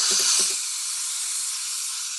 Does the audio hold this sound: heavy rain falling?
no